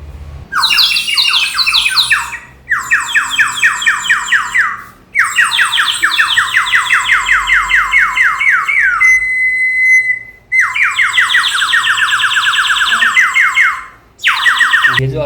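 A water-filled bird whistle is blown to mimic birdsong, producing loud, rapid warbling trills in several long bursts separated by short breaks, close and with no talking.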